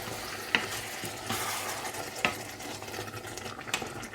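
Passata poured into a hot frying pan holding half olive and half vegetable oil sizzles with a steady broadband hiss, while a few sharp clicks and stirring scrapes of the pan sound close by.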